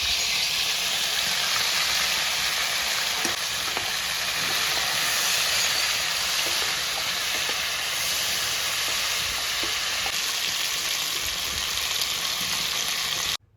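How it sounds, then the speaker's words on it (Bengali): Cauliflower frying with turmeric in hot oil, the same oil used earlier, makes a dense, even hiss that holds steady and fairly loud, with a few soft knocks, before cutting off abruptly at the end. "এরপর আমি ওই তেলেই ফুলকপিগুলোকেও ভেজে নেব।"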